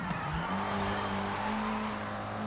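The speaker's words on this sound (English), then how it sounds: "Initiating a drift here" A car drifting in Forza Horizon, braking hard into a corner, its engine droning steadily with a rising tone and tire squeal mixed in, loud and continuous throughout.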